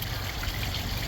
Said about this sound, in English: it's just letting the water out slowly